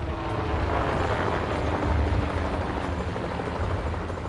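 A Bell UH-1 Huey military helicopter flies steadily nearby, its dense rotor and engine roar constant and loud throughout with no break and no voices.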